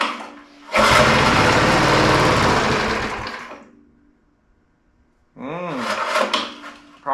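Small steam roller engine cranking after a shot of starter fluid, a loud sustained mechanical churning burst that dies away, a pause of near silence, then a second rougher sputtering attempt, close up.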